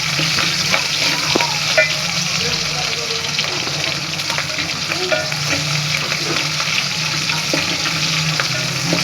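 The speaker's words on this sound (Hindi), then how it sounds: "इसी तरह फ्राई कर लेंगे लहसुन और हरी मिर्चों को इसके अंदर ही।" Garlic and green chilies frying with browned onions in a pan give a steady, dense sizzle with occasional stirring scrapes, loud and continuous throughout.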